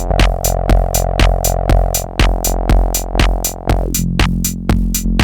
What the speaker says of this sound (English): if we switch to a different waveform, you can hear that the envelope is working on that filter